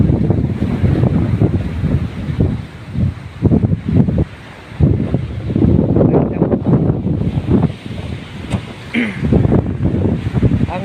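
Wind at a beach resort in Sariaya, Quezon, gusting against the microphone in loud uneven bursts with brief lulls, with surf-like rushing underneath.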